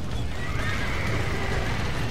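A horse whinnies and hooves clatter in the Old West video game Red Dead Redemption, a dense, loud, continuous mix with no pauses.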